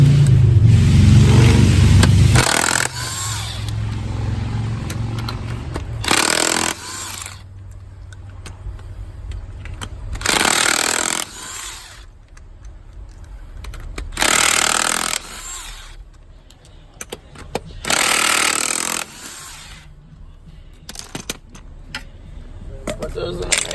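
A wheel comes off a 2006 Buick Rendezvous during a wheel hub and bearing job, with several loud bursts of tool noise spaced a few seconds apart over a steady background hum.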